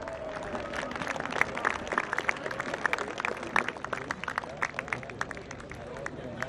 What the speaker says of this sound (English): Ladies and gentlemen, give them another big round of applause.